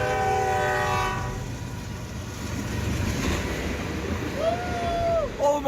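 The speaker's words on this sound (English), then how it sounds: "a train barreled through a railway crossing and collided with an SUV" A train's horn blares as it passes through a railway crossing in Flagstaff, Arizona, a loud sustained multi-tone blast at the start, then rumbling rail noise and a later, shorter horn sound.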